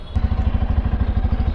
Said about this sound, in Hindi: इस गाड़ी की जो है ना एग्जॉस्ट नोट जो है वो सुनते हैं